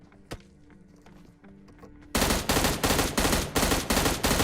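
Gunfire in a battle royale video game: a single sharp shot and some soft thumps, then a rapid automatic burst of about a dozen loud, evenly spaced cracks, close and unbroken by talk.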